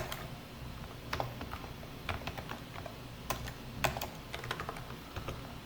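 Code typed on a computer keyboard, a quiet, irregular stream of close key clicks with occasional sharper taps and brief pauses, no talking.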